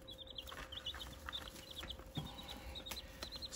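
Meat chickens cluck and peep softly in a coop, a scatter of short, fairly faint calls over a steady background hum, with occasional louder clucks.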